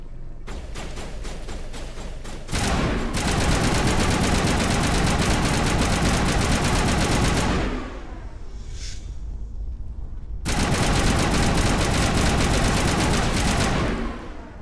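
Sustained automatic gunfire from the Mass Effect video game, loud and continuous in long bursts with a brief lull in the middle before the shooting resumes.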